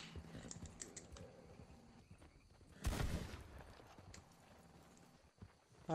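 Quick clip-clop of a horse's hooves thudding along in the video game Red Dead Redemption 2 multiplayer, with a loud burst of noise midway through.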